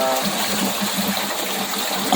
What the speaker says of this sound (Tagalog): Ito po, nakukuloy po yung tubig. Yan po yung freon na nire-release natin.